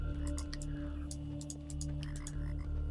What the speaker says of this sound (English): your party sees a small orange frog peering up at you, totally unafraid